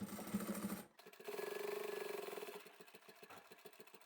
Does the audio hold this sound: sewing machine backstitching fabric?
yes